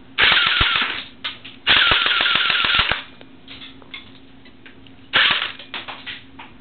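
A Pulse M74 DP airsoft gun fires three loud bursts of rapid automatic shots, each lasting about a second, with a few single pops and mechanical clicks in between; no talking.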